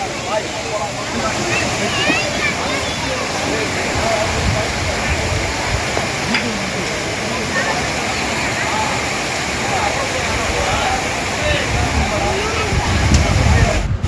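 Main Courtallam waterfall pouring at dawn, heard from a distance as a loud, steady roar of crashing water that fills the whole clip, with occasional voices beneath it.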